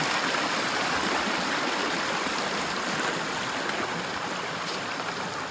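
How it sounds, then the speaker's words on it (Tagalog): Waterfall on a hiking trail in the Philippines, heard as steady, dense broadband rushing water that fills the whole clip without pause, strong and fairly close, with no voices over it. "Ayun yung falls eh. Nakikita na namin."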